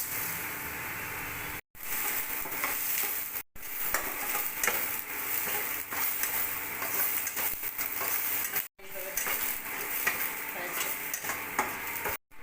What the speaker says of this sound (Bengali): সেদ্ধ করে রাখা পেঁপেটা ছুঁকে নেব